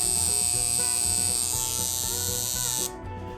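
Superior Raven tattoo liner machine running steadily, a close, continuous electric buzz with a rough mechanical hum, alone without talk.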